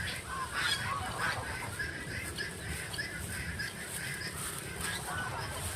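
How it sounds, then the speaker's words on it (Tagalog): Geese honk repeatedly beside a rice field in the open, a busy flock of overlapping nasal calls in a near-continuous irregular chorus over steady outdoor background noise, with no talk. "Ito, gangsa."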